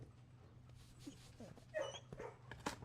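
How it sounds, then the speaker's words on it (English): A dog in the video game Blue Prince whimpers softly, then gives a few short yips and barks, all quiet and a little distant. "Can I pat the dogs?"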